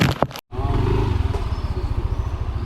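Yamaha MT-09 motorcycle on the move, its engine a loud, steady, throbbing rumble close to the rider, interrupted by one brief cut near the start, with wind rushing over it and no clear talk.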